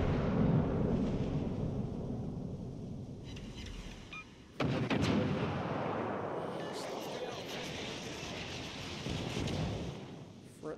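Battleship front turrets fire in World of Warships Legends, heard as deep, heavy booms that roll through a continuous low rumble. A sharp, louder salvo lands near the middle and the dense rumble carries on to the end.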